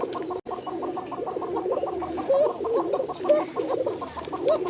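Bashiraj Coca pigeons coo in a steady, repeated rolling call, fairly close and continuous, with several birds overlapping and no talk.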